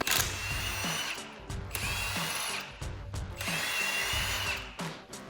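An impact wrench works the 23mm lug nuts on a 2010-2015 Camaro SS wheel, firing in close, loud, repeated bursts of rapid hammering.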